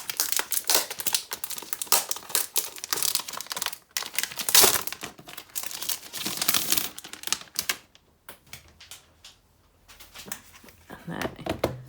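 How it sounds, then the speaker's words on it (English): Protective plastic film being peeled off a new Wacom drawing tablet, producing close, crackly crinkling and tearing bursts, irregular and busy at first, then quieter and sparser toward the end. "then we can take off this plastic,"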